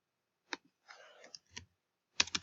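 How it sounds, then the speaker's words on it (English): A computer keyboard is typed on in short bursts: a single click, a quick run of keystrokes, a couple more taps, then a final cluster, close and fairly soft against near silence. "Let me type live."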